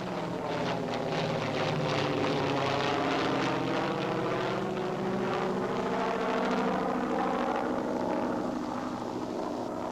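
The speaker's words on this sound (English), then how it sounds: "Note the takeoff of the PBY before the glider." A PBY aircraft towing a glider takes off with its propeller engines droning steadily and loudly, a sustained engine roar that wavers slightly in pitch, and no voices are heard.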